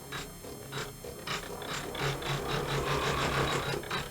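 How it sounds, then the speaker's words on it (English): A sewing machine stitching a rope bowl at its slowest speed, a close, steady mechanical ratcheting and clicking that runs alone and unbroken for a few seconds. "So at the moment, mine is stitching on 400 stitches a minute."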